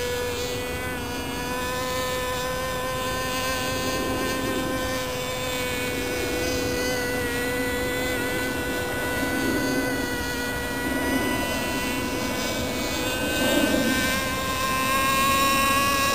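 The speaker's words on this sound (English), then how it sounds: "That plane's really speeding." A U.S. Aircore Colt model plane flying at the field, its engine a steady high-pitched buzzing whine that swells slightly as it speeds past, heard at moderate distance without talking.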